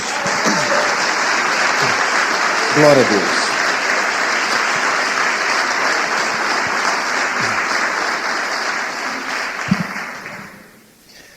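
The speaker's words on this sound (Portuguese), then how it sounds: "Dê uma salva de palmas para Jesus." Loud congregation applause in a church, a full sustained clapping with brief spoken exclamations from a voice over it, fading out near the end.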